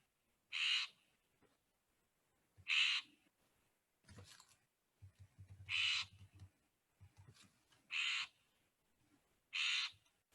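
A Florida scrub-jay gives a series of harsh, raspy calls, about five bursts spaced roughly two seconds apart, with quiet gaps and faint rustling between.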